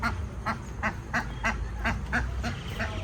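Ducks quacking at a rural house in the rain, a regular series of about nine short nasal quacks close by over a steady background hiss.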